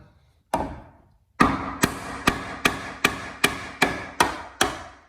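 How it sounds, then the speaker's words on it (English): Beater screwdriver struck against a residential single-gang electrical box on a wall: nine sharp metallic hammer blows, the first alone, then eight in a steady rhythm, close and clear with no talk. "take your beater screwdriver and put that against the wall, and then just kind of hit down on that"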